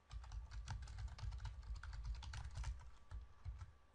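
Code being typed on a computer keyboard during a PL/SQL-style for-loop lesson: a rapid, continuous stream of close, crisp keystrokes with no talking.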